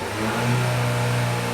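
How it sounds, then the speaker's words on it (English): A Ford engine revved once during a misfire monitor test, rising from idle into a sustained steady drone close by with no talking. "So if we can rev that up once."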